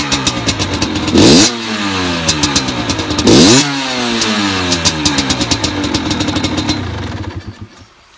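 A Rieju MRT motorcycle engine fires up and idles with a rapid popping beat, revved sharply twice before dropping back, then fading out near the end.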